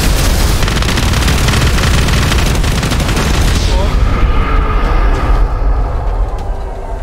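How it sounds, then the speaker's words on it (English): Fireworks launcher shots in GTA V go off in rapid, dense succession, producing continuous loud cracking booms that later thin out into scattered bursts and a lingering rumble, with voices talking over the noise. "I don't remember the fireworks launcher being that aggressive"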